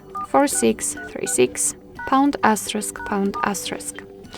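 Keypad tones sound as a secret code is dialed on a HOTWAV Note 12 phone, steady beeps running under a person speaking continuously.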